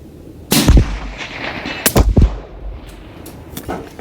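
Two loud rifle shots from a Horizon Firearms Venatic bolt-action in 22 Creedmoor, fired outdoors, each a sharp crack followed by a rolling echo, with a fainter report later and no talking.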